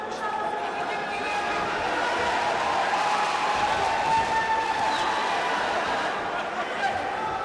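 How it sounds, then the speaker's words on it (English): A local crowd cheers a boxer at a World Series of Boxing bout between Astana Arlans and Indian Tigers, a steady, dense roar of voices filling the whole stretch with a commentator talking over it. "Sanjeet, cheered by the local crowd, piling on the pressure"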